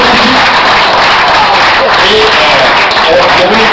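Applause from the audience at a Parma Club Christmas celebration, a steady, loud wash of clapping that fills the whole stretch, with a voice speaking over it.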